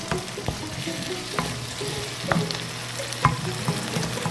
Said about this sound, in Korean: 야채와 고추가 잘 튀겨지듯 볶아줘야 맛이 훨씬 좋아요.